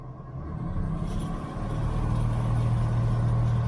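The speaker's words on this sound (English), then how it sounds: "Let's bring the RPM up." A Jeep CJ engine with Holley Pro-Jection fuel injection, running rich, rises in RPM from idle to a steady, louder drone, with a low rumble and a sustained tone building over a few seconds, close up and without talk.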